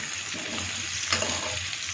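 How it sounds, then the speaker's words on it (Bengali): Potatoes frying in a pan in a home kitchen, giving a steady close sizzle with a few louder stirring scrapes and no voices. "আলুটা আমি ভাজা করে নিচ্ছি"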